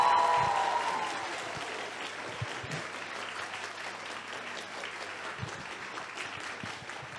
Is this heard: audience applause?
yes